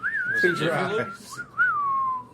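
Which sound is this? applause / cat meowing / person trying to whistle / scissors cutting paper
person trying to whistle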